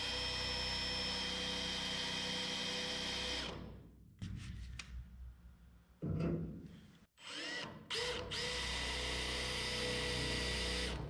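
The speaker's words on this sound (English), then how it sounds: "So we're going to do some really light drilling." A power drill bores light pilot holes into the rusty rear quarter panel of a Triumph Spitfire, a loud steady whine that cuts out, then returns in short bursts and stops before a final long sustained run.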